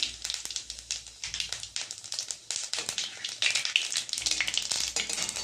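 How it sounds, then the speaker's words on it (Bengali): Whole garam masala and cumin seeds sizzle in hot oil, a close, steady crackling fry with dense popping and spitting throughout. "আমি এখানে গোটা গরম মশলা ফোড়নে দিয়ে দিচ্ছি"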